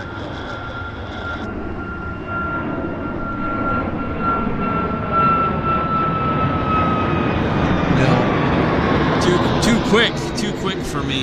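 Boeing airliner taking off at Vancouver Airport, a loud continuous jet roar that swells and holds, with people talking nearby and radio chatter over it.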